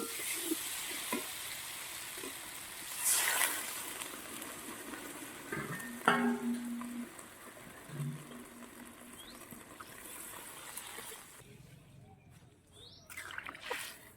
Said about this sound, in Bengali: আমার কচু ভাজা হয়ে গেছে এখন জল ঢেলে দেবো